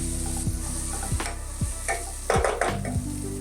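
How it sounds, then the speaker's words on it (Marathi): A spoon scrapes and stirs turmeric, coriander-cumin powder and garam masala through sizzling oil in a pan for a cluster bean dish. Several distinct scraping strokes cut across a constant close sizzle, with no voices. "हे सगळं मिक्स करून घ्यायचं।"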